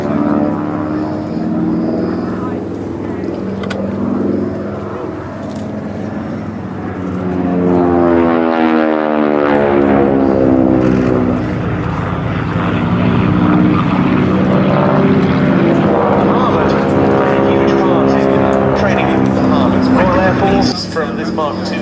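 A Mark IIB propeller aeroplane performs a flying display at the Duxford airshow, its engine droning loudly and rising and falling as it passes, while someone talks over the noise throughout.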